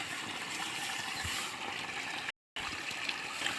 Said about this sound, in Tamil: தண்ணி போகிற சவுண்டு மட்டும் கேட்குது.